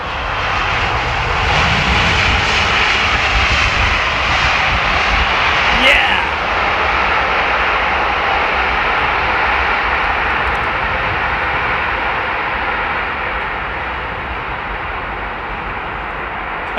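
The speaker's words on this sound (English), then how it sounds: "Tell you what we haven't seen for a while, so Air India's A350 in the new livery." An Air India Airbus A350 in new livery roars at Heathrow, a loud, close, sustained jet rumble with a rising whine that holds strongly and eases slightly near the end.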